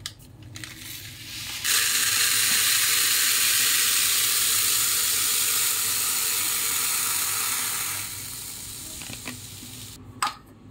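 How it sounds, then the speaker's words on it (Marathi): A kilogram of finger millet sits in a pot as water is poured in to wash it, a steady broadband rush lasting several seconds before tapering into quieter handling noises. "आता ही नाचणी आपल्याला स्वच्छ धुवायची आहे, तर त्यात मी पाणी टाकते।"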